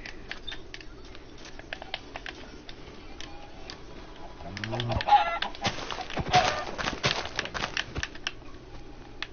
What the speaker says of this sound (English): I said there's a lot of chickens.